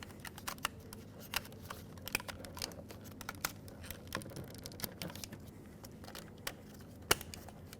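Sharp, quiet clicks and small plastic snaps come in a loose, irregular series as electrical plugs are pushed into the master window switch of a 2000-2005 Ford Excursion, with light handling rustle between them.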